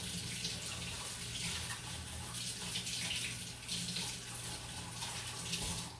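Homegrown garden vegetables are rinsed under a running tap for a Caprese salad, a steady close rush of water splashing into a sink with slight shifts as the produce moves, no talking.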